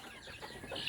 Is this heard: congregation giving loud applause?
no